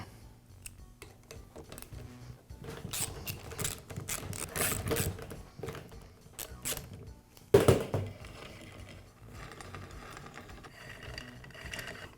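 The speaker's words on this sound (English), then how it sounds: "I'll begin by removing the cap from the nail gun." Metal clicks, scrapes and rattles as the cap is taken off a Max roofing nail gun during repair, a series of irregular close handling sounds with one louder clunk near the end.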